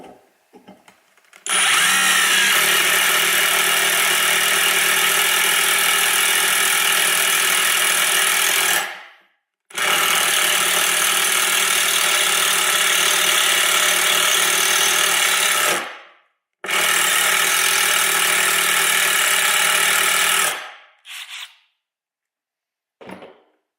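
A Milwaukee M12 FUEL 2453-20 impact driver spins a drill bit in three long, loud bursts of several seconds each, with short silent gaps between them and a few brief clicks at the end.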